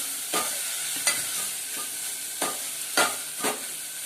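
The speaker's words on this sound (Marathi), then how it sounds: "नंतर ही जी मच्छी आहे ती टाकूया आपण। दोन मिनिटं चांगली जरा हलवून घेऊया।" Dry fish sizzles in a pan for curry as a spatula scrapes through it in several distinct strokes over a continuous frying hiss, close and clear.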